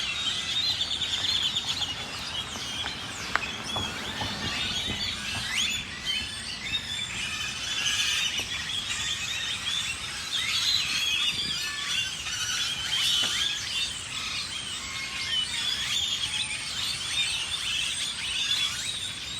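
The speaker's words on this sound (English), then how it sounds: "crazy birds are in this tree" Crazy wild birds fill a tree with loud, dense chirping and tweeting, a continuous high-pitched chorus of many calls layered over each other throughout, with no talking.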